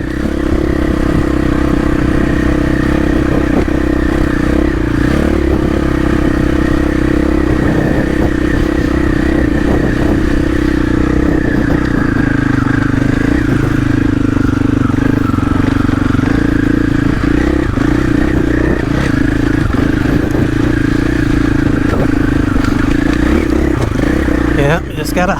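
A 2024 KTM 500 EXC-F dirt bike fitted with a GET SX1 traction control system revs hard climbing a hill, its loud, steady engine drone rising and falling with throttle for the whole stretch, with faint voices underneath.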